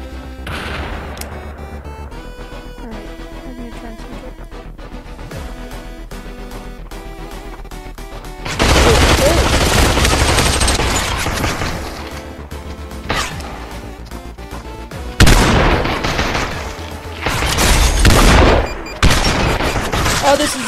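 Gunfire in the VR shooter Population: One, with the first half fairly quiet and then loud bursts of shooting arriving in clusters, each burst dense and sustained, separated by short lulls near the end.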